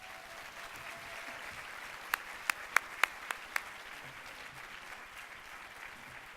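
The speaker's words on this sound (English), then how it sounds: "Please give a warm round of applause to Lynda Weatherby." A luncheon crowd gives a warm round of applause, a soft, somewhat distant wash of clapping with a handful of crisp individual claps standing out near the middle.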